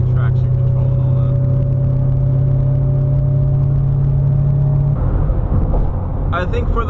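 Ford Mustang fitted with a T56 manual transmission cruising slowly, a steady low engine drone with a whirring tone holding constant, then shifting slightly near the end as a voice talks over it throughout.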